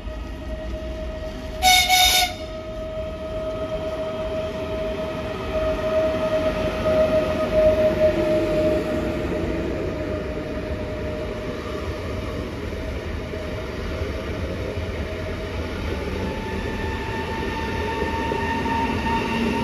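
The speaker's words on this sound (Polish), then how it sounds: "I za chwilkę odjedzie Intercity Rejewski do Bydgoszczy." An Intercity Rejewski train bound for Bydgoszcz pulls out of Lublin Główny station with a steady rumble of rolling wagons, a short loud horn or whistle blast early on and a tonal whine running beneath.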